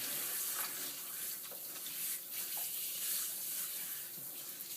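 Tap water runs steadily as a cat is rinsed during grooming, with the water worked through her fur: a continuous, close splashing hiss with small irregular splatters and no talking.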